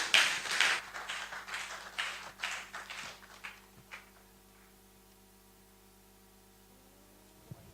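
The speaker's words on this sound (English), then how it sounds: "let's clap for him again" Audience applause at the SPE Africa Annual Students' Congress 2023 fills the first few seconds, then thins and fades out, leaving only a low electrical hum in a quiet hall.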